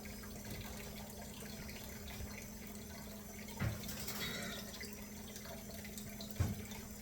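Steady running cold water, like a tap filling a container, poured into mashed strawberries for syrup, with a couple of soft knocks and clinks partway through.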